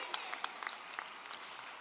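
Applause from a graduation audience for the Class of 2024, a brief burst of clapping from a crowd heard at a distance.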